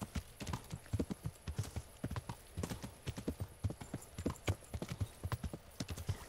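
Horse hooves from the video game Kingdom Come: Deliverance, a fast, steady galloping clip-clop of an overworked horse with rapid rhythmic thuds throughout and a faint whinny, no talk over it.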